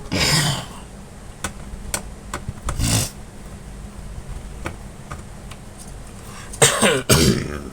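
Three coughs, close and loud, spaced out over several seconds, with sharp little ticking clicks in between.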